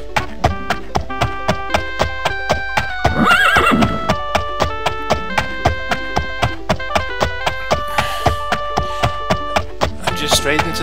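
A horse in the game Daggerfall trots along with steady, evenly spaced clip-clop hoofbeats, and loud whinnies break in twice. A musical drone runs underneath.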